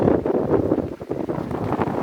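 Strong gusting wind on a sailboat at sea buffets the microphone in a loud, rough roar that swells and dips, with water and hull noise mixed into the rush.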